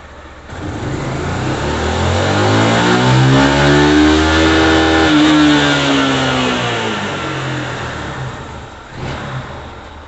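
A carbureted 150 Sport motorcycle with a modified camshaft accelerates in third gear, its engine note rising steadily in pitch and loudness for several seconds, then easing off and fading. Loud and close, with no speech.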